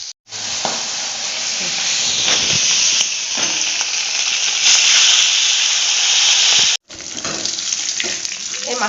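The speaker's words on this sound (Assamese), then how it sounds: "এই মাছৰ মূৰ দুপিচ ভাজি আছো" Two fish heads frying in oil in a home kitchen, a loud, dense, continuous sizzle and crackle close up, briefly cut off near the end before resuming.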